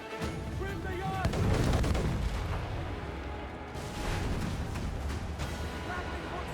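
In Assassin's Creed 4 Black Flag, a pirate ship's cannons fire in a naval battle, giving heavy booming blasts and rolling rumble under shouted crew voices and busy game sound.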